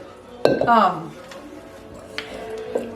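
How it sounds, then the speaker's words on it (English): A spoon stirs chocolate chips into homemade cookie dough in a bowl, giving a few sharp clinks and scrapes against the bowl. A person talks over the first clinks, and softer taps follow. "So you just stir it up till you mix all the chips in."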